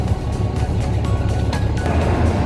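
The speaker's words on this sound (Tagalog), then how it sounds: "Ang ingay ng sasakyan." Steady road traffic on a sunny day outside a mall, a continuous low engine rumble with passing vehicles close by, loud and unbroken with no talk.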